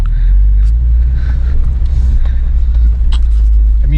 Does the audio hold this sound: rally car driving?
yes